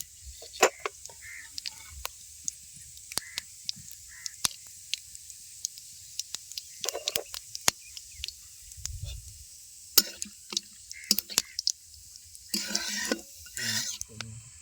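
Whole cumin seeds frying in hot oil in a pan by a riverbank, a steady faint hiss broken by sharp clicks and scrapes of a utensil against the pan, with a louder burst of crackling near the end.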